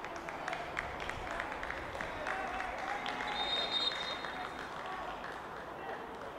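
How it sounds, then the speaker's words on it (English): Crowd applause rises at a youth football cup match in a stadium as a substituted player leaves the pitch, a steady wash of clapping and cheering that carries under ongoing commentary. "And a good round of applause there for a good shift"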